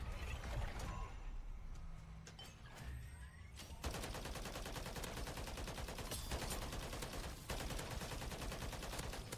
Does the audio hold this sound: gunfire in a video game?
yes